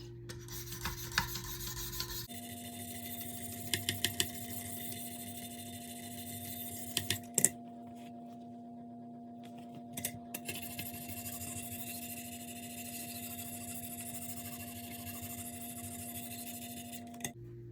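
Light sharpening strokes drawn along the blade of an Emerson Super Commander knife, cleaning off the burr, as a steady run of soft rasping passes with a few sharper scrapes over a faint constant hum.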